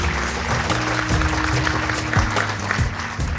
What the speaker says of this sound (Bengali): বাংলাদেশের লোকগানের জন্য আমরা জোরে করতালি দিতে পারি